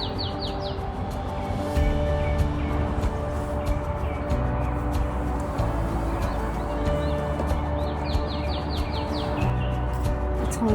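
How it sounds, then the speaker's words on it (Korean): Birds chirp and sing around a campsite, with repeated bright tweets and short trilled calls over a steady low background hum. "여기 새소리가 너무 듣기 좋아요."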